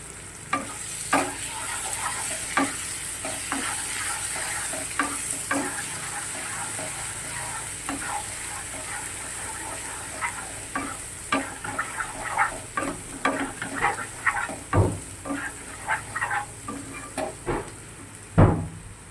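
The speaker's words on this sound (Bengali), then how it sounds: "মশলাটা দেখো প্রায় কষানো হয়ে গেছে, আর আমি 2-3 মিনিটের মতন কষাবো।" A spice masala being stirred and sautéed in a pan for a potol dish, with a steady sizzle and the repeated scrape and clack of a spatula, getting louder and more frequent toward the end, and no talking.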